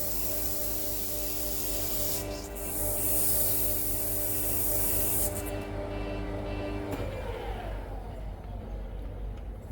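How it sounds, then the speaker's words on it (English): A wire wheel scrubs leftover paint overspray off a massive steel bulldozer yoke, a steady loud abrasive rasp with a brighter hissing stretch midway before it winds down into a lower mechanical hum. "I am going to give it another wire wheel just to get rid of a bit more of that overspray"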